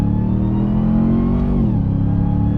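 A RAM TRX pickup truck's engine revs hard in sport mode, a loud, steady close-up roar that drops in pitch as it downshifts quickly partway through.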